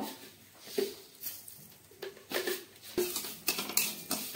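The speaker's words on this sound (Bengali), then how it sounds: "ঘি দিলাম, এবার দিব দালচিনি আর সাদা এলাচ। এটাকে এখন আমি নাড়ব।" A spoon stirs ghee with cinnamon and white cardamom in a pan, giving a series of irregular metallic clinks and scrapes close by.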